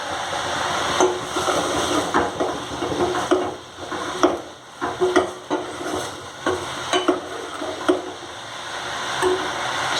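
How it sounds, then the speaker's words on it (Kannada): Tempering for saaru stirred and fried in a hot pan, a steady close sizzle with repeated scraping and tapping strokes of a spoon against the metal, no talking. "ಚೆನ್ನಾಗಿ ಒಗ್ಗರಣೆಯಲ್ಲಿ ಹುರಿಬೇಕು."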